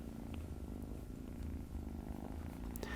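A kitten purrs softly and continuously, rumbling steadily and close up, low and even, with no voices over it.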